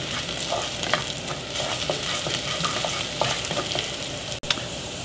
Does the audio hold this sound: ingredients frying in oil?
yes